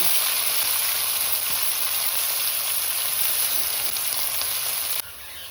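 Finely chopped onions fry in a pan with a loud, dense, continuous sizzle that holds steady and close before dropping off abruptly at the end, with no one talking.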